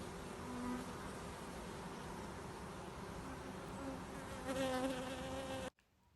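Bees buzz steadily at close range, a dense droning hum with a few louder passes near the end before it cuts off abruptly.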